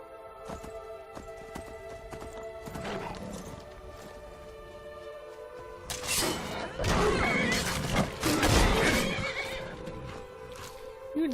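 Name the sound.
horse neighing in Skyrim video game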